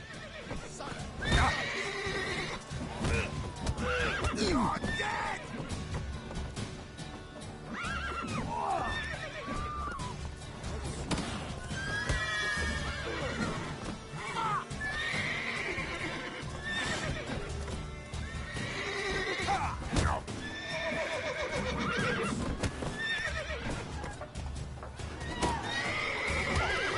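Roach, the horse in The Witcher video game, neighing and whinnying several times over clip-clopping hooves, with loud sharp impacts and busy game sounds mixed in throughout.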